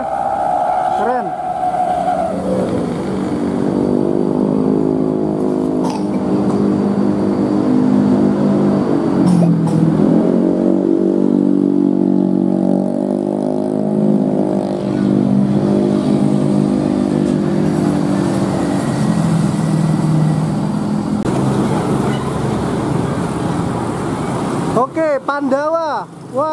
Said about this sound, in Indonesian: bis pariwisata overtake dengan bis Sugeng Rahayu ya